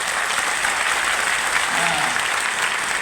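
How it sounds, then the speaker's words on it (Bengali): Dense, steady applause from a live audience fills the whole stretch, loud and continuous with no pauses. "সবথেকে ওদের একবার জোরদার হাততালি হয়ে যাক।"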